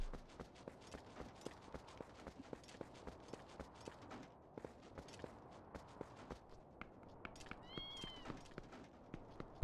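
Cats meowing in Zelda: Twilight Princess, a few faint high mews rising near the end over a busy backdrop of game footsteps, clip-clop and clatter.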